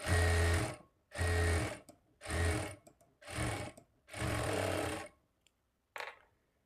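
A sewing machine stitches a folded shape belt onto a lined blouse in five loud, close, whirring runs separated by short pauses, then one brief final burst.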